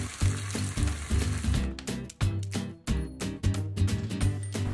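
Mamak-style Indian fried noodles with eggs stir-fried over medium-high heat, with rhythmic scraping and tossing in the wok over a steady sizzle, close up and without talk.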